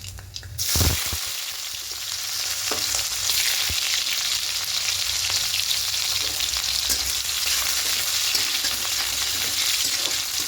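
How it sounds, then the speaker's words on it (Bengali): Chopped onion and nigella seeds hit hot mustard oil with a sharp burst, then a loud, continuous sizzle and crackle carries on steadily, with faint scrapes of stirring. "তেলের মধ্যে কালো জিরে ফোড়নে দেব আর দেব পেঁয়াজ কুচি"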